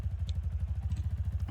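A motorcycle ridden in the Minecraft video game gives a short, steady low chugging, with evenly spaced engine thumps throughout.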